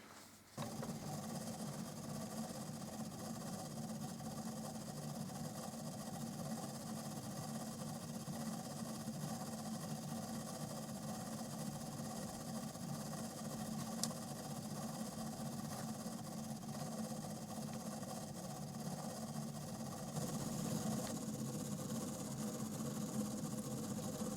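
A Hornby Adams Radial LSWR model locomotive runs on a rolling road with a faint, steady mechanical whir and motor hum that continues evenly throughout.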